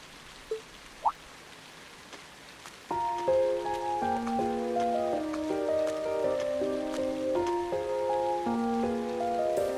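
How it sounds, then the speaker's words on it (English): Rain falls in the video game The Legend of Heroes: Trails of Cold Steel as a soft steady patter, with a few faint drips at first and then a gentle melodic tune playing over it. "I do apologize for stopping you on a rainy day like this."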